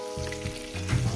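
A splash of spice-bowl rinse water poured into a hot pan of frying drumstick stems and potatoes, a brief close burst of hissing sizzle that swells near the end, no voices.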